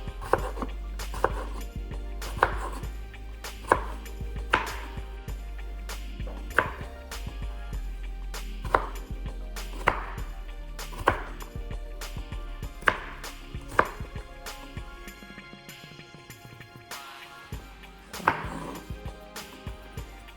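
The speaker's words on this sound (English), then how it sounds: "chop some onions up as well" Knife chopping onions and potatoes on a cutting board, a steady run of sharp, close knocks at an even rhythm for about twenty seconds, pausing briefly near the end before a few more chops.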